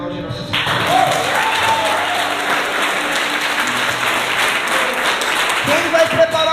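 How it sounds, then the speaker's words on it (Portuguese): A church congregation bursts into sustained, loud applause that fills the room after a brief quiet start, with some voices mixed into the crowd noise. "Se você crê nisso, pode aplaudir nosso Senhor."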